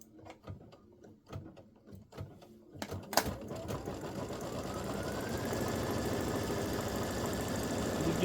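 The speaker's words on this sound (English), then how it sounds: "this is going to top stitch right on top of the orange." An embroidery machine top stitching over orange thread on a Halloween cowboy ghost patch, first a few scattered clicks, then a fast, even, continuous mechanical chatter that runs close and steady to the end.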